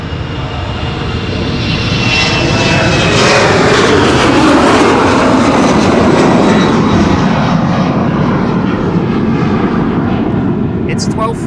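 An Embraer jet takes off from Schiphol's Polderbaan runway as a loud, sustained engine roar that swells to a peak midway and then eases slightly, with talking over it.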